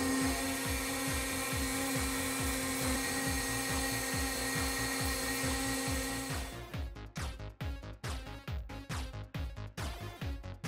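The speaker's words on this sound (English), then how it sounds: "then I can shape it a little bit with a Dremel" A Dremel rotary tool shaping EVA foam for a Mickey Mouse animatronic build, a steady high whine for about six seconds, then choppy, uneven grinding as the bit bites into the foam.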